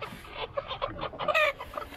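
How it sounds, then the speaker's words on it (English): Chickens cluck close by in a quick, steady series of short calls, with one sharper squawk near the end, at a market in Pokhara, Nepal. "We got chickens. Three chickens."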